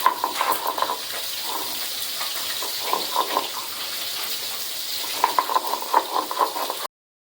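Ginger and garlic being ground together on a shil-nora grinding stone while preparing a potol chingri curry, heard as steady scraping and rubbing strokes in rhythmic bursts, moderately close with no talking.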